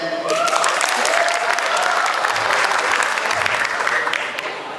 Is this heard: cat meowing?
no